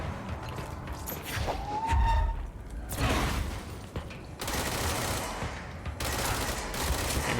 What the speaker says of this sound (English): I'm making up for my lack of accuracy with sheer volume of bullets.